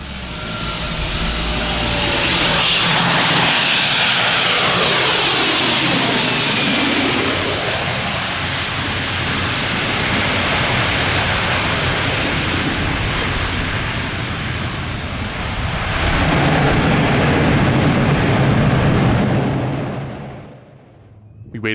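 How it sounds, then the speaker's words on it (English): A Fokker 50 turboprop airplane skims low over trees and rooftops, its broad engine roar swelling loud and close with a sweeping Doppler shift as it passes overhead, then fading, with voices heard along the way. "there was indeed another Fokker 50 skimming the trees and rooftops"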